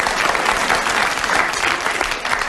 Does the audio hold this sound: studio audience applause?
yes